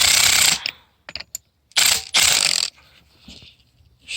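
A ratchet tightens a 17mm nylock nut on a VW T4 Transporter suspension mount, with loud bursts of rapid clicking separated by short pauses and a few sharp metallic taps, close up and with no talk.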